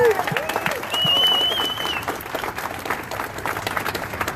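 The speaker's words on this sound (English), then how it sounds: "Round of applause, guys." Crowd applause at an outdoor March for Men rally, a broad wash of clapping with a short whistle and voices mixed in; moderately loud, easing and then holding steady.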